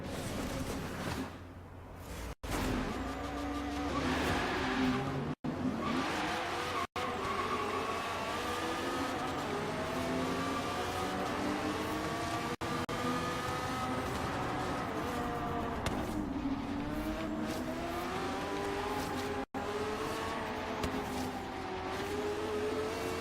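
Race car lapping a desert figure-eight circuit at night in Forza Horizon 3, its engine droning steadily and loudly with rising and falling pitch through gear changes and corners.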